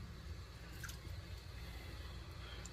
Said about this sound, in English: we'll pick the optic out of the water and looking for that light